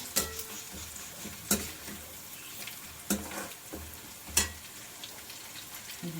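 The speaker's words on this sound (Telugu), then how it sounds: "రొయ్యలు వేస్తున్నాను" Prawns going into a hot pan for a red-fried prawn curry, a low sizzle under repeated sharp scraping clatters of stirring spaced roughly every second and a half, with some watery splashing.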